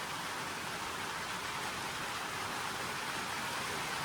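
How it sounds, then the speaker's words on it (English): Heavy rain pours steadily outside a stone cottage, a dense, even hiss of drops filling the whole stretch with no voices. "This is some of the best rain that we've had in a long time."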